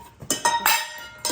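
A small child knocks a bowl and spoon about, making several sharp, close clinks and taps at uneven intervals with short pauses between them.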